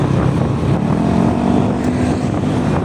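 Motorbike riding along a lightly trafficked road, giving a steady loud engine drone with rushing wind noise throughout and no talking.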